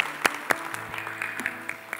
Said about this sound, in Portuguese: e a gente aplaude, glória a Deus